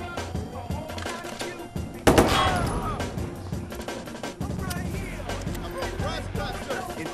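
A sudden loud burst of gunfire in Watch Dogs 2 cuts through a busy soundscape of game effects, with someone talking over it and scattered smaller shots and thumps around it.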